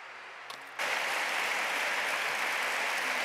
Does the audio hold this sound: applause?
yes